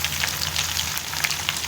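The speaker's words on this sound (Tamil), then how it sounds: "சின்ன வெங்காயம் கொஞ்சம் நல்லா வதங்கணும்" Small shallots and onions sauté in a pan of oil while cooking sambar rice, a steady, close-up sizzle and crackle with light spattering pops and no voices.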